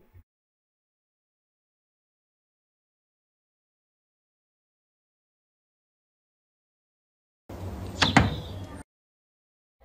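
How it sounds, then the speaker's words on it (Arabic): A single café door opens or slides with a short rattling thud near the end, after long silence. "نشوف أنا عندي صوت باب"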